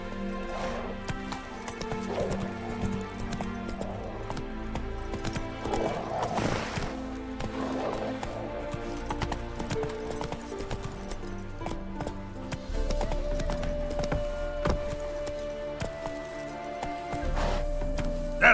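Geralt's horse Roach galloping in the video game The Witcher 3 next-gen, with steady rhythmic hoofbeats, a whinny and some clinking tack over game music, close and moderately loud.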